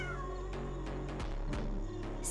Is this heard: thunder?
no